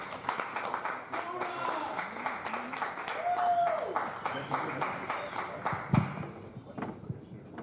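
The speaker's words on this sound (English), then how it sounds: "please give a round of applause for Bubble Data" A round of applause from an audience at a student project presentation event, moderately loud clapping sustained for several seconds and tapering off, with voices heard over it.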